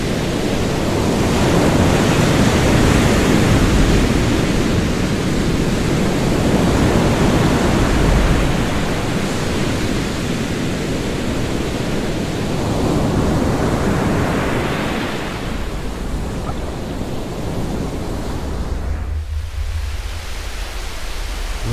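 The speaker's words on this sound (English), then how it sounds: "Listen to the ocean and the waves." Ocean waves surge and wash continuously, loud and close, with a steady broad roar that swells and recedes in slow cycles before briefly dipping near the end.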